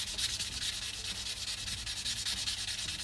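An opal being wet sanded on 800 grit abrasive gives a steady, close, soft rubbing hiss with a fast, even back-and-forth rhythm. No voices are heard.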